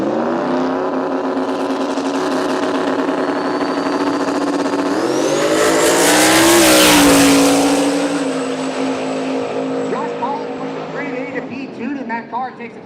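A street-legal drag race car accelerates hard down the strip at a classic car event, its engine note climbing and swelling to a loud peak before easing off, with a broadcast voice running over the roar.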